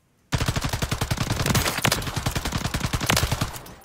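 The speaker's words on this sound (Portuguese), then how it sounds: "Ela tem uma cadência muito mais alta nos primeiros tiros" A rapid burst of automatic light machine gun fire in the video game Warzone 3, dozens of sharp shots in quick succession, loud and continuous for a few seconds before stopping.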